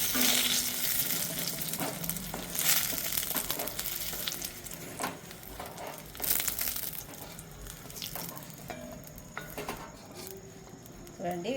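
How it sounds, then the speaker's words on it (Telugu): Green chillies fry in a pan for a Telugu tomato roti pachadi, giving a steady close sizzle with scraping stirs and a few faint clinks throughout, without talk. "చూద్దామండి మిరపకాయలు ఫ్రై అయింది లేనిది"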